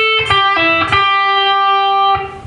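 Clean electric guitar playing a slow lick from a lesson, with distinct picked notes and a pull-off, ringing clearly with sustained tones and a few quick attacks, alone without talk.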